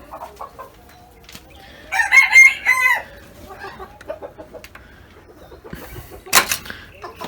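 Gurk chickens and a rooster in a backyard coop: a loud, close rooster crow rings out for about a second amid soft clucking and scattered rustling, followed later by a brief sharp squawk.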